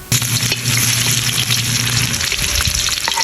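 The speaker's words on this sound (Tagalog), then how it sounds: "Matapos natin mahiwa mga tokwa, magigisa na tayo." Chopped tofu sautéing in a pan, a steady broadband sizzle and hiss running throughout at close range, with faint stirring scrapes and a low hum in the background.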